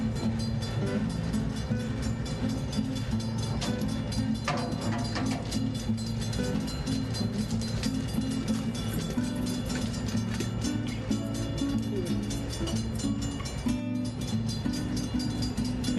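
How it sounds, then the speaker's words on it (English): The Wine Train, hauled by two 60-year-old diesel engines, rolls along the rails with a continuous low engine rumble and clattering wheels, steady and fairly close. "So instead, the train travels with two engines."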